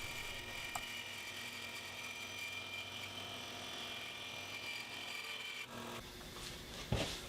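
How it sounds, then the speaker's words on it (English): A saw cuts a thick ebony board into thin laminate strips, giving a steady, sped-up rasping drone that continues evenly, then shifts near the end with a sharp knock, with no voices. "I'm actually cutting quite slowly, because the slower you cut, the smoother the finish on the board you're cutting."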